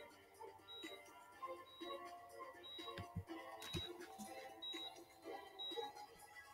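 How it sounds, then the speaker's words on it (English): A surgery video game gives off a repeating electronic beep, short high tones spaced about a second apart, faint and steady against quiet background noise and a few soft thumps. "that beeping is so annoying"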